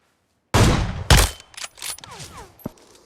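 A sniper rifle shot in BGMI, a sharp loud crack followed by a second heavy report, then fainter scattered in-game sounds trailing off, with no talking.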